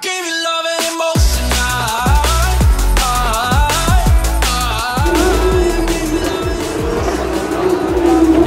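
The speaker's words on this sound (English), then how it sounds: "those cars are louder than the Formula Ones" Race cars scream past on the Monaco street circuit, several loud engines rising and falling in pitch as they pass close by in quick succession, with gear changes and a sustained high engine whine near the end.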